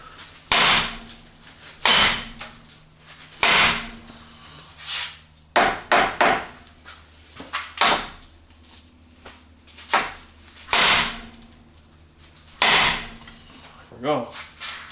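A hammer striking the steering knuckle of a 1995 Chevy Suburban swapped with a 453T two-stroke Detroit Diesel, in a garage: about ten sharp, ringing metal blows in an irregular rhythm, loud and close.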